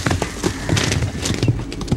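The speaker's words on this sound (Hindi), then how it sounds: "रंगली से कहो यार कि घोड़ा जरा संभाल के दौड़ाया करे।" A horse's hooves beat quickly on the ground in a galloping rhythm, close and loud, with a faint whinny mixed in.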